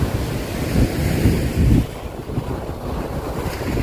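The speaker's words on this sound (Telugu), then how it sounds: "అలలు జోరుగా ఉన్నాయి, జోరెత్తుతున్నాయి." Strong ocean waves crash on Adikadalayi beach in Kannur on Kerala's Malabar coast, rolling surf surging loudly in repeated swells under gusts of wind against the microphone.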